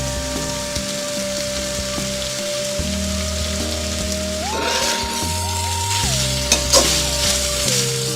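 Shredded cabbage stir-frying in a hot pan, a steady close sizzle with stirring over a continuous hum, no speech.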